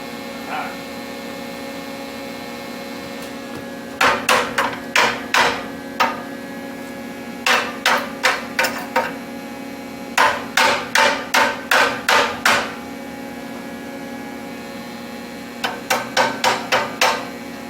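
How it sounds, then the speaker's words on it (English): Hammer blows striking metal during repair of a John Deere 506 brush hog mower, coming in quick clustered bursts of several sharp, ringing hits separated by pauses, close and loud over a faint background hum. "Only a hit of hammer."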